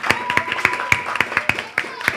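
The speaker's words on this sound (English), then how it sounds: "Let's celebrate them with a hand of applause" Sparse applause from a school audience at an inter-house quiz, a handful of distinct claps in an uneven rhythm, fairly faint, with a faint tone underneath.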